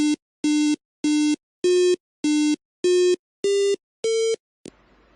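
Eight electronic beeps play as a short tune, evenly spaced and steady in loudness, the pitch stepping up slightly toward the end, followed by a brief click.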